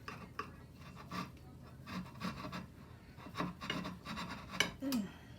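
A dull knife sawing steak into strips, giving repeated close rasping strokes in an uneven rhythm with a few light clicks of the blade against the board, no talk.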